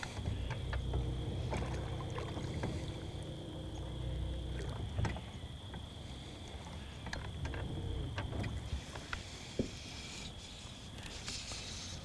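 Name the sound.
small boat moving on water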